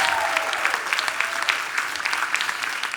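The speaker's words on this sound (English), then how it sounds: "Give yourselves a round of applause." A crowd at a motivational speaking event claps steadily for three seconds, a dense, loud wash of applause with no pauses.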